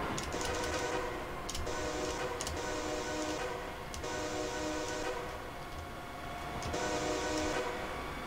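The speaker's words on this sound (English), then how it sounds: "is it just me, or does the horn on this train now sound a bit weird?" A locomotive horn in Train Simulator 2019 sounds in long sustained blasts of a few seconds each, separated by short gaps, over a continuous rumbling train running noise.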